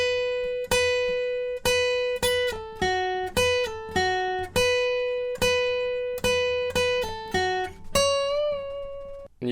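An electric guitar plays the lead line from a song, with clean, sustained single notes in a steady melodic run, a light bend and release near the end, close and alone.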